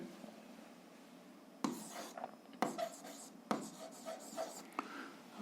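A pen scratches across paper while an algebra solution is written out, in short rubbing strokes with sharp taps at the start of each line, close and fairly quiet, with faint background hiss.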